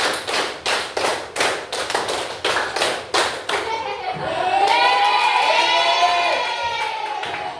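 A class of students claps a counted rhythm pattern, sharp unison claps in repeated groups, then the clapping stops and children's voices and chatter take over.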